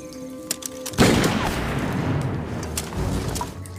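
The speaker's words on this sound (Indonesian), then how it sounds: "Oshima menembakkan ke arah 2 orang bandit itu" Gunfire in a war film about Japanese soldiers: one sharp, loud blast hits suddenly, followed by a rolling, decaying rumble and a few scattered faint clicks.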